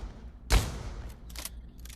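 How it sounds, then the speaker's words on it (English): A sawed-off double barrel shotgun fired in the Pavlov video game, one loud booming blast followed by lighter mechanical clicks and clatter. "this is the double barrel shotgun, or as I like to call this, saw off"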